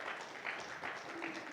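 A church congregation breaks into applause during a sermon, steady dense clapping filling the room for the full stretch with no voices standing out above it.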